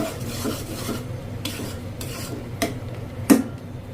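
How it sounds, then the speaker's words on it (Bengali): Chopped onions frying in mustard oil with cumin seeds over medium heat, a soft low sizzle broken by a few scraping stirs and one sharp utensil knock near the end, close and fairly quiet. "পেঁয়াজগুলো মিডিয়াম আঁচে আমি ভেজে নিয়েছি"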